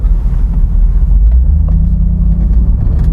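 A Jeep JK pulls away in third gear, a loud, low engine rumble that drones steadily and close throughout, with no talking.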